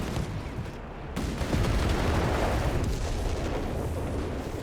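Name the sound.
tank gunfire in Company of Heroes 3 video game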